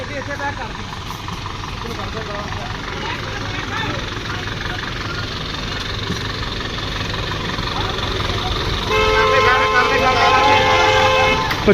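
A parked vehicle idles nearby with a steady low engine drone beside a Sutlej river embankment. The drone swells slightly louder toward the end, and a faint tonal whine rises above it.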